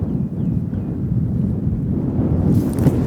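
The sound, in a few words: strong wind blowing outdoors while fishing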